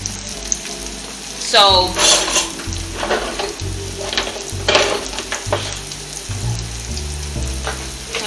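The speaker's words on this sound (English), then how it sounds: "So you're gonna kind of fry them, I guess." Potatoes and onions fry on high heat in a pan for smothered potatoes, giving a steady close sizzle with stirring scrapes and crackles, while someone talks briefly over it.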